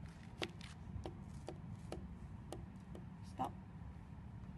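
A pen taps dots onto paper during a timed motor assessment, giving sharp, evenly spaced clicks about every half second over a low background murmur.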